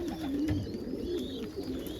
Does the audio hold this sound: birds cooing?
yes